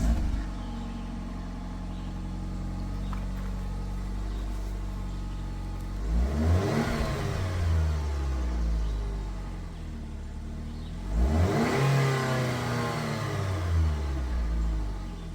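A Jeep Patriot's 2.4 liter engine idles with a low steady rumble, then revs up sharply twice, around six and eleven seconds, each swell climbing and falling back to idle, close and alone.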